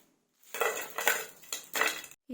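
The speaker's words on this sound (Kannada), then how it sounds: "ಈಗ ಇದನ್ನ ಒಂದು ಪ್ಲೇಟಿಗೆ ತೆಗಿಯೋಣ." Fried ivy gourd pakoda is lifted out onto a plate, producing several close bursts of scraping and clinking from a utensil against metal and crockery, separated by short pauses.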